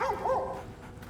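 A dog in Baldur's Gate 3 gives a short bark that slides into a high whimper, close and clear, lasting about a second.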